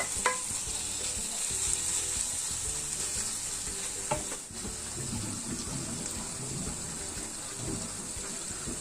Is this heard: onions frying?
yes